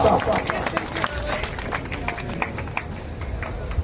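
A crowd at a public gathering applauds to welcome a guest, a dense rattle of many hands clapping at once amid crowd murmur, steady and sustained for several seconds at moderate loudness.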